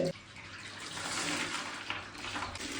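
Aquarium stones are rinsed by hand in water, indoors in a washroom, like washing rice. A steady, soft splashing and swishing rush runs throughout at moderate volume, with no talk.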